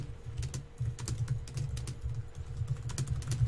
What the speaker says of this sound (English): Because I hear typing.